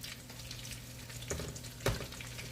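Parmesan chicken pieces frying in a pan on the stove give off a steady, soft sizzle close by, with two brief louder crackles or spatters near the end and no talking.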